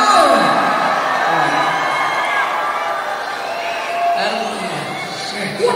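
A live rap concert crowd at a show in Scotland cheers, whoops and shouts along during a participation number, a dense steady roar of many voices from near and far with a brief swell near the end.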